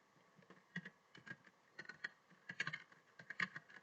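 Computer keyboard typing while writing text in Notepad: quiet, close, irregular key clicks in small clusters, with no talk over them.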